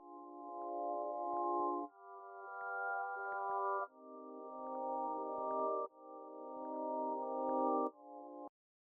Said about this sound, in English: I added this pad from Sky Keys.